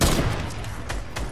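A rapid burst of overlapping gunfire in Fortnite, loud and close, with sharp cracks and a booming low tail, no voices.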